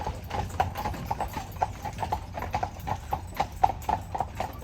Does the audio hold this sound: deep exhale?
no